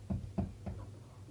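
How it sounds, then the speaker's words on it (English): A woodpecker drums on wood in three separate bursts, each a quick sharp knock like someone rapping on a door, moderately close and clear with no voices. "that's a woodpecker, it sounds like somebody knocking on the door"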